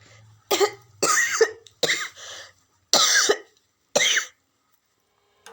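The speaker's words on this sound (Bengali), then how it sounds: "অনেকটাই কাশি হচ্ছে" A person coughs in about six separate harsh bursts, close to the microphone, with short silent gaps between them and no talking.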